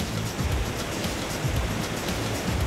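A short, powerful river in Montenegro, about 170 meters long and fed by underground springs from a rock, rushes past in a steady, dense roar of churning water with no voices.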